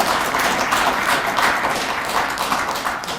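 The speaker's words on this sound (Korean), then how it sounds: "박수 한번 이렇게 쳐주시죠." An audience at an award ceremony for a hall-of-fame induction applauds, a dense, continuous patter of clapping at moderate distance, steady throughout.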